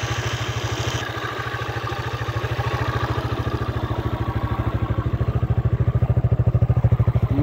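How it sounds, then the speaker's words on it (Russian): A Motoland ST250 motocross motorcycle engine idles close by with a steady, rapid low thump and a light mechanical clatter, growing slightly louder toward the end, with no talk. "Ну, звук мотора."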